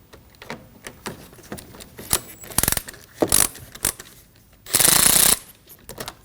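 A ratchet wrench with a 10mm socket loosening a bolt inside a 2003-2006 Subaru Baja, behind the steering wheel: scattered clicks and clanks, then short ratcheting bursts and one longer rapid ratchet run, close by with no talk.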